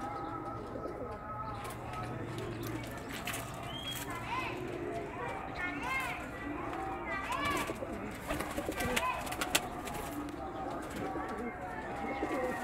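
Breeding pairs of domestic pigeons coo steadily in a loft, with soft repeated throaty calls and occasional wing flutters and scuffles over a constant background hum, near and moderately loud, with no talk.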